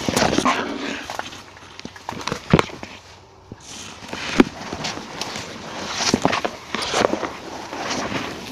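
Dog in a swampy woodland near a river, giving scattered short sounds that come and go over rustling and movement, close by and moderately loud.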